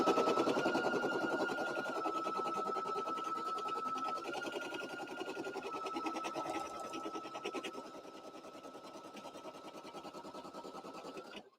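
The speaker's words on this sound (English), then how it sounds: "So the first thing that's going to do is stitch the placement stitch" An embroidery machine stitches an appliqué placement line in a steady, rapid mechanical whir that keeps going for the whole stretch, easing slightly in loudness toward the end, with no talking.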